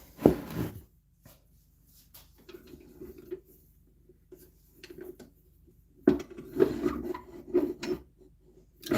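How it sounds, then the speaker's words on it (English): Close, scratchy rasping of sandpaper on myrtle wood during woodturning, in bursts of back-and-forth strokes separated by quiet pauses. "But for now, we're going to sand."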